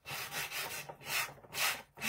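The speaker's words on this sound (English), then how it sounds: "I am going to hit it with a sanding block just to scuff it up even more" A sanding block scuffs back and forth across a weathered wooden pirate sign in quick, raspy strokes, about five close, evenly spaced rubs with brief pauses between them, and no talk.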